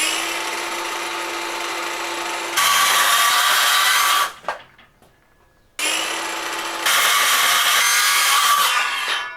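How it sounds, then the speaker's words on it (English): A power saw cuts lengths of wood on a workbench: two loud, close bursts of whining, rasping cutting, each lasting a few seconds, separated by a brief near-silent pause as the blade spins down. "I'll cut off these lengths on the workbench."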